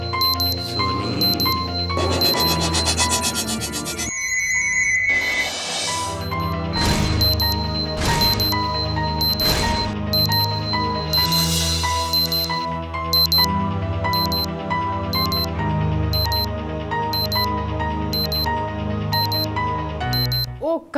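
An alarm clock rings on and on with loud, bright repeating tones, pulsing in a steady rhythm with a few crashing accents over about twenty seconds.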